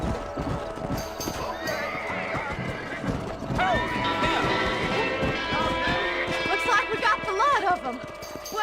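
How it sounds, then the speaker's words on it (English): Horses in the Red Dead Redemption video game gallop with rapid hoofbeats while several whinnies and neighs ring out, growing busier midway, with voices talking over the herd. "Hey, the stallion's getting away! Chase him down and bring him back!"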